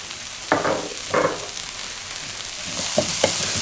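Rough-chopped garlic from a whole bulb frying in a pan for creamy garlic chicken, a steady close sizzle with a few sharp scraping stirs.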